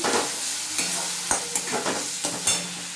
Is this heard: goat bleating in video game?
no